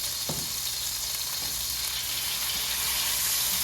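Tomatoes with a teaspoon of sugar sizzle steadily in a hot pan over high heat for a tomato egg scramble, a continuous close frying hiss with a few soft stirring knocks and no talk.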